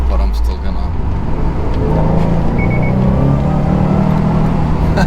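Subaru WRX STI engine accelerating hard up a highway on-ramp, a loud, continuous low rumble that climbs in pitch with steady road noise underneath.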